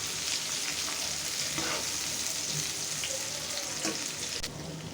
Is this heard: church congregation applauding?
no